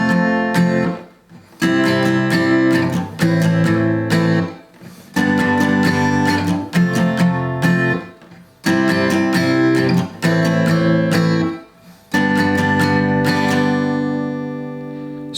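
An acoustic guitar strums the chorus chords of a song, starting on G in a repeating down, up, down, down pattern, with bright, full chord bursts separated by short pauses, played close and alone.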